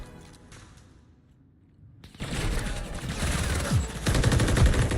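Loud, dense gunfire from a Call of Duty match erupts after two quiet seconds, automatic bursts and rapid shots overlapping continuously and close up, with faint game radio chatter earlier.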